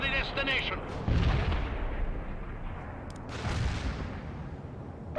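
Artillery explosions rumble and boom in World in Conflict as an anti-tank strike lands, with heavy blasts rolling under radio chatter and battlefield noise.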